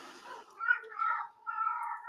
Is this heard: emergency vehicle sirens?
no